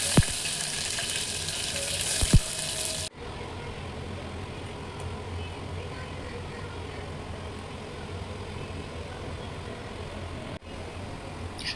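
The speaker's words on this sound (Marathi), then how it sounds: "आणि मग फायनली डाळ फोडणीला घातली." Steady sizzling and crackling from a hot pan as spicy dal goes into the tempering, continuous and moderately loud, with a few sharp clicks near the start.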